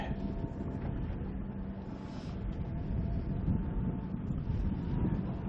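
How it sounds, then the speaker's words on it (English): Strong wind gusts buffet the microphone in the middle of a harbour during a sailing race, a constant loud roar with the faint hum of a boat engine underneath. "Pretty windy in the middle of the harbour now though, Bob."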